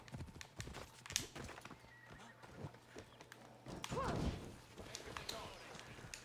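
Rhythmic horse hooves clip-clop at a steady pace with a short whinny partway through, set against faint Assassin's Creed Odyssey game ambience and a voice speaking.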